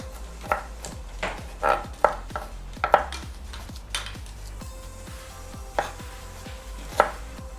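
White okra being chopped with a knife on a board, a run of crisp, close knocks at an uneven pace, about a dozen strikes, with no voices.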